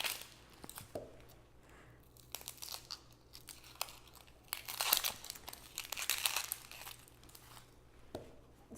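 Papery onion skin is peeled away on a cutting board, giving close, dry crinkling and tearing rustles in irregular bursts, quiet at first and louder in the middle, with no talking.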